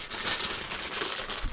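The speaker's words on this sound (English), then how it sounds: "Sorry about the crinkling of the bag." A plastic bag crinkled close by, a busy run of dense crackling rustles that continues without pause through the moment.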